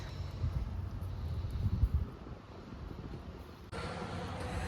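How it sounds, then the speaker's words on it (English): A steady low rumble of traffic on a busy street with wind-like noise, continuous throughout and shifting slightly partway through; no one speaks. "So pardon any road noise that you hear."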